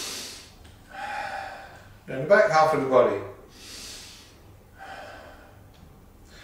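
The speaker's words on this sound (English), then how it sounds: "breathe in, breathe out" Slow, audible in-and-out breaths from a guided breathing exercise come and go between spoken instructions, soft airy breaths alternating with a clear voice at close range.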